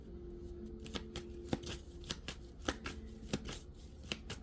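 Tarot cards shuffled by hand in a steady run of crisp riffling flicks and soft slaps, close and alone with no talking.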